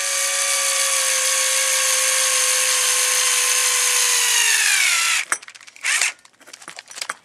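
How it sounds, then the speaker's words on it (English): Power drill or driver whirs steadily while running bolts back into the control arms of a 1/8 scale Atomik-RC Metal Mulisha short course truck, then winds down and gives way to a few short clicks and bursts. "Now I need to run these bolts back in."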